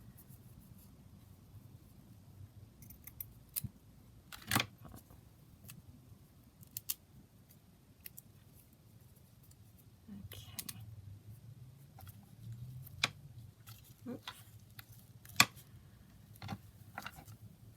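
Scissors snip through book pages at a crafting table, making sparse, quiet cuts scattered over a faint steady background hum, with no one talking.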